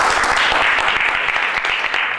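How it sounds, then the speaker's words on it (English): An audience at a DaVinci Institute talk on the future of programming gives dense, continuous applause, loud and close, with no break across the short stretch. "applause to Mr. Kevin Welch."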